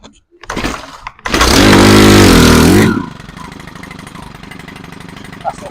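A STIHL BT131 earth auger's small four-stroke engine is started with the choke on: a brief pull-start rasp, then it catches into a loud, steady high idle for about two seconds and drops to a quieter running idle.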